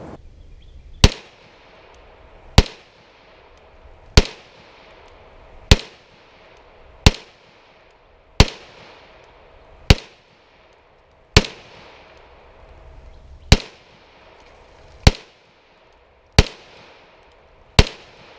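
Single shots from a Canik TP9SFX 9mm pistol with a match-grade barrel ring out at an outdoor range, about a dozen sharp, loud cracks spaced roughly one to two seconds apart, each trailing into a brief fading echo.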